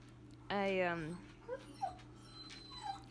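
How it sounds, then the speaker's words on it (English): A dog whines once, loud and close, in a high, wavering cry that lasts about half a second, followed by a few short faint sounds in a quiet room. "My dog is whining."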